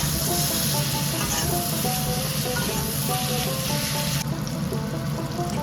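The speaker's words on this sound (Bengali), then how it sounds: "অর্ধেক টমেটোর কুচি দিয়ে আবার নেড়ে নিচ্ছি।" Chopped tomato is stirred into a cumin spice paste frying with a splash of water for a Bengali puti fish curry with vegetables. A loud, constant sizzle runs throughout, with faint stirring beneath it.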